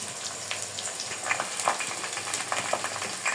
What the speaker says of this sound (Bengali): পেঁয়াজটা লাল লাল করে ভাজা হয়ে গেছে,